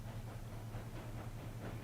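A train rolls steadily along in the Railroads Online railway simulation game, a continuous low rumble with a faint hiss running evenly throughout.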